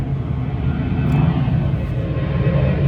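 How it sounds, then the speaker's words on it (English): A fixed-wing airplane passes overhead as a steady, loud low rumble that swells slightly through the middle and holds, filling the whole stretch with no voices. "that's an airplane going right overhead."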